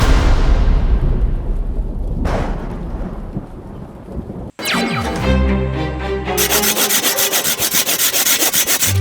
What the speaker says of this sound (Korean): 이제 나무 왜 자르시는 거예요?